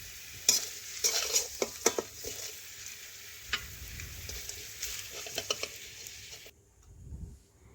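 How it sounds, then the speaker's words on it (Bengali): Reddened fried potatoes are scooped and drained from hot oil, a run of sharp spoon clinks and scrapes over crackling sizzle, then the frying noise drops away near the end. "আলুগুলো একটু লাল লাল করে ভেজে, এগুলোও দেখুন ভেজে তেল ঝরিয়ে এইভাবে তুলে নিচ্ছি"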